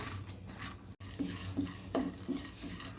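Almonds, cashews and pistachios frying in ghee in a pan, with a soft sizzle under repeated clinks and scrapes of a spoon stirring the nuts, close and quiet, with a brief dropout near the start.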